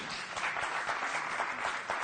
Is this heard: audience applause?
yes